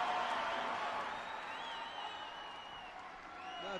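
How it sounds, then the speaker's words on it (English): Crowd at a taekwondo championship semi-final cheering and applauding across a large arena, a steady, fairly distant roar that slowly eases with faint whistles running through it. "And the crowd were ecstatic about that."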